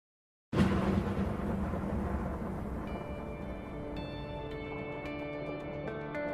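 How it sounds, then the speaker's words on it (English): A storm in the game A Way Out begins with a sudden loud rumble of thunder that rolls on as a sustained low roar, with a tonal music layer emerging over it. "There's a storm coming."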